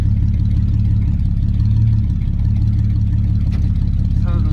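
A 1.4 Opel Corsa engine with a stainless steel exhaust idles with a deep, loud, steady exhaust rumble, holding an even drone throughout.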